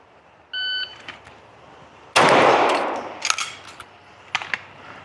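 A single sharp, loud shot during a cold start shooting drill with a LaserMax LM-ERDS, preceded by a brief electronic beep and followed by a few smaller clicks and knocks, with no speech.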